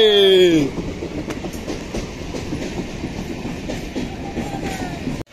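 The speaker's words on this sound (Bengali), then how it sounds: "পেছন দিক দিয়ে ট্রেন চলে আসে" A train passes on railway tracks close by, opening with a loud whistle-like squeal and then settling into a steady rumbling clatter of wheels that holds to the end.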